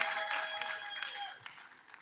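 Applause from a mental health summit audience as a guest takes the stage, a dense spread of clapping that slowly thins and fades toward the end.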